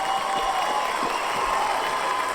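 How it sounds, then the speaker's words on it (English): A round of applause for a guest barber on a podcast, a steady, dense wash of clapping from a small room audience that stays even throughout, close and fairly loud with no talk over it. "He deserves that round of applause."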